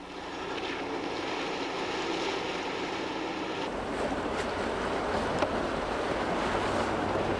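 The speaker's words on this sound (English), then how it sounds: "When driving through water, use third gear, low range." Steady rushing water and engine rumble as a Range Rover Classic pushes through water in third gear, low range, the churning growing louder and rougher midway.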